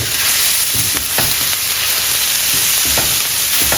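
Bite-size lobster pieces frying with mushrooms in a pan, a loud, steady, close sizzle with occasional stirring clatters, no talk.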